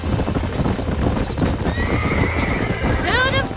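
Horses in the Western video game Red Dead Redemption: steady clopping hooves under a constant rumble, then a drawn-out neigh and a sharp, quavering whinny near the end, close and loud.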